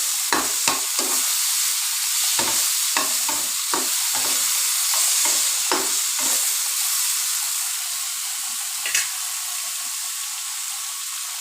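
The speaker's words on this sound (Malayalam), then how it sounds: "ടൊമാറ്റോ നന്നായിട്ട് വഴറ്റി വരണം" Tomatoes sautéing in a pan give a steady sizzling hiss broken by repeated scraping stir strokes, loud and close with no voices.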